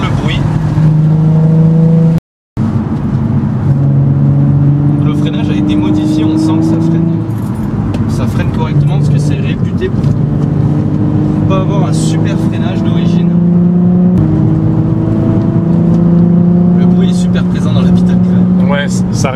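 Nissan 350Z engine droning and revving through gear changes on a road drive in rain, steady and close with rising tones, under continuous talk from the driver.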